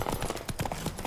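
Horse hooves clip-clop steadily on the ground in The Witcher 3: Blood and Wine, a quick rhythmic trot of several close, moderately loud hoofbeats.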